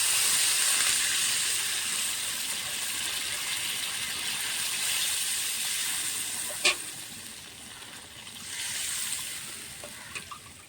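Water hits hot fried spice paste in a pan, giving a loud, sustained hiss and sizzle that slowly fades over several seconds, with a couple of faint clinks near the end.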